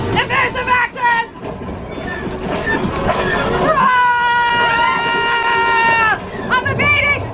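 Loud rumbling and mechanical whirring of a train scene inside the Millennium Falcon Smuggler's Run ride, with a long sustained tonal whine in the middle, under excited overlapping voices of riders shouting.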